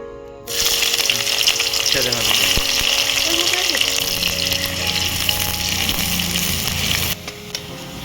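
Chopped onion hits hot mustard oil with bay leaf and a little sugar, bursting into a loud, continuous close sizzle that is stirred now and then before it cuts off abruptly.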